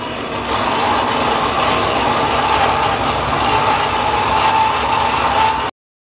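Continuous mechanical grinding and whirring while metal tab pieces are cut in half for brackets in a metal shop, loud and close, running steadily for several seconds before stopping abruptly.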